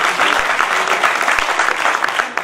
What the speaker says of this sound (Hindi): एक बार फिर से तालियां बजाकर जरा माहौल फिर से उसी जगह पर खड़ा करें